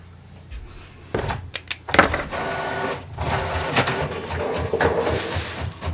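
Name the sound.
printer printing an embroidery design page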